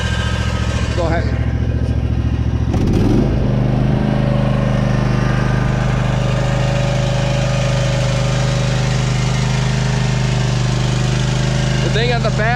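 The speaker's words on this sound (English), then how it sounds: "I'm gonna put the throttle up, hear what it sounds like. I don't know if you can hear that sound of the engine or the throttle." A Cub Cadet Ultima zero-turn mower engine revs up to raised throttle and holds a loud, steady drone nearby, with a possible loose rattle. Someone talks briefly over it.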